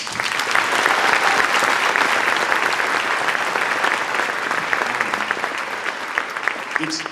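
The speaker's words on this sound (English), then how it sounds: "Give them a round of applause." A concert audience at a high school band clinic and concert breaks into sustained, dense applause that holds steady and close for the whole stretch, with no talking over it.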